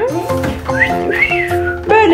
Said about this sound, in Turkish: Maymun ıslık çalıyor.